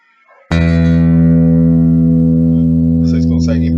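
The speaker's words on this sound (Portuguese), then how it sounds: "o mesmo instrumento a gente vai escutar um som baixo, que são sons de menor frequência, no caso, sons mais graves" A steady, loud, low-pitched sustained tone from an instrument starts abruptly and holds for several seconds, rich in even harmonics, with a voice speaking faintly underneath near the end.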